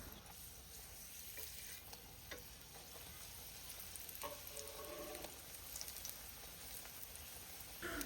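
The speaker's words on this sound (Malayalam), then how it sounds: "ഇതൊന്ന് തിരിച്ചു മറിച്ചിട്ടിട്ടൊന്ന് ഒന്ന് ഫ്രൈ ചെയ്തെടുക്കുകയാണ് ചെയ്യുന്നത് നമ്മളൊരു മീഡിയം ഫ്ലെയിമിൽ വെച്ചിട്ട്" Pettipathiri, a Malabar stuffed pastry, frying in oil over a medium flame, giving a soft, steady sizzle with scattered crackles and a brief stirring clatter, close and fairly quiet.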